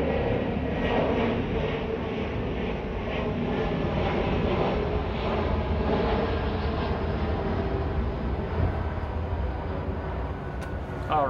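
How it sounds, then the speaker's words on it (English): Heard from indoors in a parlor, an airplane flies overhead with a steady, rumbling engine drone that fills the room at a constant level for over ten seconds, with no talking. "this plane flies over there in this parlor"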